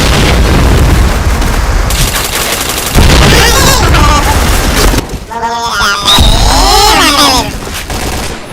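Gunfire and grenade blasts from the Point Blank shooter game: heavy booming bursts and rapid shots fill the first half, then a voice calls out over rising and falling synthesized effects, all loud and close.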